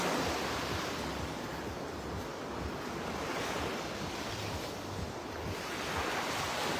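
Sea waves wash onto a clear-water white sand beach, a continuous steady surf roar with some wind buffeting the microphone and no talk.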